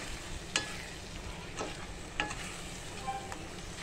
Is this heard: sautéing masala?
yes